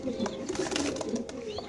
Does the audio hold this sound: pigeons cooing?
yes